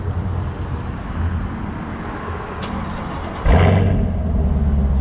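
A car at a car show starts up with a sharp crank and catch, then settles into a loud, rumbling idle close to the microphone.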